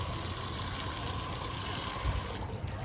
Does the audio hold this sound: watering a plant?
yes